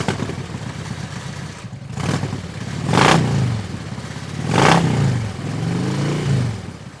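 A motorcycle engine revs and passes by twice, swelling loud then fading, with a steady engine drone in between and no talking, on small-town roads in Gregory, Michigan.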